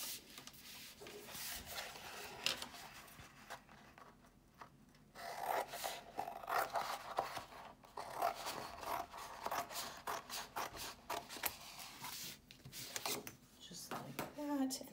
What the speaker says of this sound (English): we're gonna just trim it and leave about 1 inch